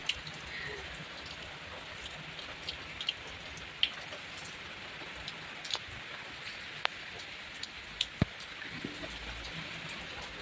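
Heavy rain falls steadily as a constant close hiss, with scattered louder drops tapping nearby surfaces.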